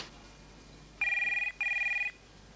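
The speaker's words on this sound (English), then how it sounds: "Phone." A telephone bell rings in two clear bursts of trilling tone, loud and close, separated by a short gap against a quiet room.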